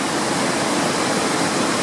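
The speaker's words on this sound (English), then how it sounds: "There's a lot more water running today." A waterfall plunging over a 1,668-foot drop in heavy flow roars as a dense, steady broadband rush, loud and unbroken with no voices.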